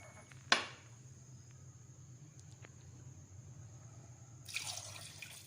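Water is poured from a cup into a cooking pot in a quiet kitchen, with a sharp tap near the start and a short splashing pour at the end.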